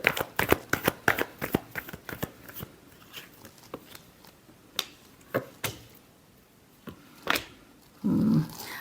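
Tarot cards being shuffled, a quick run of crisp riffling snaps and flicks that slows into scattered taps, close and fairly loud with little talk.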